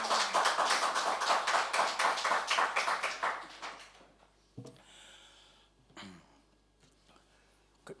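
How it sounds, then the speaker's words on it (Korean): Church congregation clapping together during a Sunday worship service, dense rhythmic applause filling the room for about four seconds before fading into quieter taps and shuffles. "우리 하나님께 박수로 영광 올리겠습니다."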